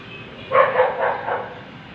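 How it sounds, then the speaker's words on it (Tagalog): A dog gives a few muffled barks in quick succession, somewhat distant, over a low background hum. "Bakit kayo nag-ingay yung aming doggy?"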